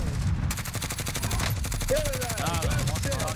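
Gunfire crackles in Call of Duty: Warzone, with rapid repeated shots in a steady rhythm throughout and a sniper threat nearby, under a brief spoken word.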